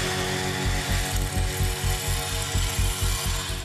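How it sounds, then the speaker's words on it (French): A drill bores holes into the granite rock wall of a narrow tunnel while hunting for gemstones. The grinding hammering is loud and close, with a fast, even pulsing beat and no voices. "On perce 2 trous en bas."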